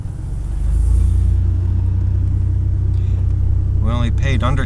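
A car driving down a street, a steady close engine rumble and road noise throughout, with a brief higher-pitched sound near the end.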